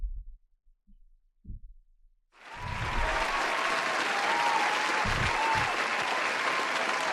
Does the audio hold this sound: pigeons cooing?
no